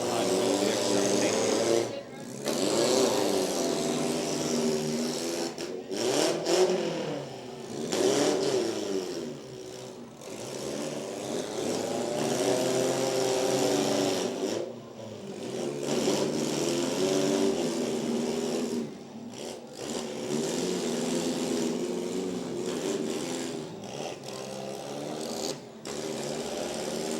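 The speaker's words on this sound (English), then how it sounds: "the 66X Bailey Campbell coming in at a pretty good clip going after the 1128" Demolition derby cars rev and drive around a county fair arena, engines droning and surging continuously with brief dips, while an announcer talks over the noise.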